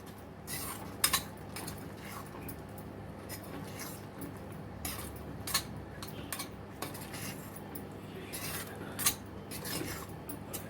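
A spoon stirs a thick amla chyawanprash mixture with ghee in a pot, quiet rasping scrapes with sharp metal clinks against the rim every few seconds.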